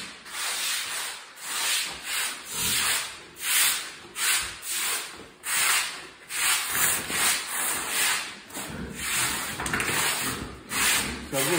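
Rhythmic scrubbing of a pigsty floor with a brush and soapy foam, harsh rasping strokes repeating about once per second, close and fairly loud, with quieter speech in places.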